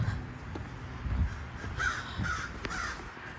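Several crows caw at a distance in a park with waterfalls in Dublin, Ohio, harsh calls repeating irregularly over a steady outdoor background hum.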